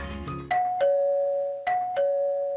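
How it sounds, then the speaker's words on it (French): A front-door doorbell chimes a two-tone ding-dong twice in a row, clear and close, each tone ringing out and fading. "nous enregistrons la sonnette de l'entrée"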